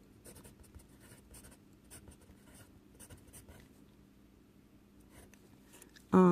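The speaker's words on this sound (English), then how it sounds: "And I want that highlight to look a little brighter. So I'm just going to erase." An eraser rubs over a pencil drawing to brighten a highlight, making soft, close, scratchy strokes in short bursts with brief pauses, ending in a sudden louder noise.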